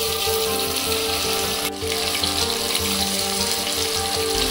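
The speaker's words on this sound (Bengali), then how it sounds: "ততক্ষণে একটি কড়াতে 5 চামচ সরষের তেল দিয়ে একটু গরম করে তাতে ম্যারিনেট করা চিকেনটি একটি একটি করে দিয়ে দেব।" Marinated chicken pieces fry in hot mustard oil in a kadai, giving a loud, steady sizzling hiss close by that continues unbroken with only a brief dip, and no one talking.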